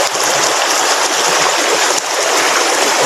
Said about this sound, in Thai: นี่ก็น้ำนะ